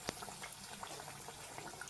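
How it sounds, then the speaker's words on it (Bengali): Egg-coated homemade chops, made without gram flour, fry in hot oil in a pan, giving a steady close bubbling crackle with scattered small pops throughout. "উল্টা উল্টি করে ভালো করে দু পিঠটা ভাজা হয়ে যাচ্ছে।"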